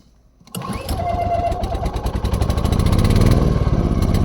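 A BLITZ petrol generator is pull-started with the choke out and ignition on. It catches after about half a second of quiet, then runs with a loud, steady, rattling engine note that builds slightly.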